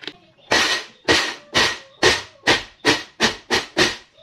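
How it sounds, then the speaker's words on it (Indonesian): A spice paste is briefly pounded and ground by hand: about nine firm, evenly spaced thuds, each with a short crunchy scrape, close and loud with no voices. "Aku halusin sebentar aja supaya bumbunya itu nggak terlalu halus."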